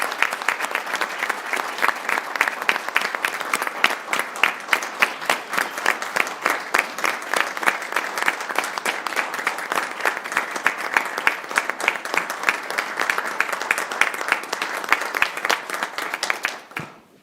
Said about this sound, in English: Please join me in a round of applause for the Ridge Road Fire District.